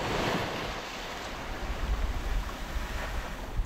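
Sea waves wash steadily onto the shore of a warm-water coast, a continuous broadband surf with rolling swells and light wind buffeting the microphone, no voices.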